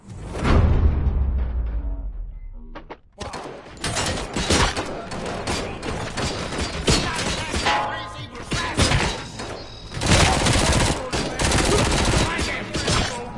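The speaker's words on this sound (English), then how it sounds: "Gunshots?" Gunfire in the video game RoboCop: Rogue City: a heavy opening blast and rumble fade into brief quiet, then dense, sustained bursts of rapid shots and crashing impacts roll on loudly for seconds.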